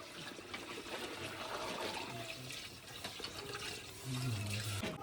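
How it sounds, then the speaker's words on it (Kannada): Water pours steadily into a cooking pot of country chicken seasoned with rock salt and biryani masala, cooked village-style over a wood-fired stove in Karnataka; a close, continuous splashing fill that grows heavier near the end, with no talking. "ನೀರು,"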